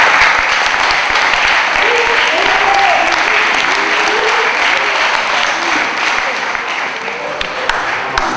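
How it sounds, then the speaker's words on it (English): Students at Prestige Academy, a school, applaud themselves in a sustained, loud burst of crowd clapping that holds steady for several seconds before easing slightly, with a few voices calling out underneath. "Give yourselves a round of applause."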